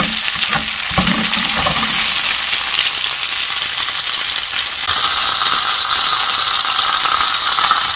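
An American tomahawk steak sizzles and fries steadily in a pan, a loud, dense hiss with crackling spatter that carries on unbroken, with a brief clatter near the start and no talk.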